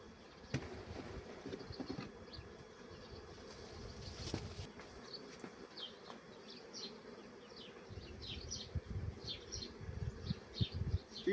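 Honeybees being handled and shaken from a frame while strengthening a weak colony give a steady, low, continuous buzz, faint but persistent, with a few louder close passes and occasional handling noises.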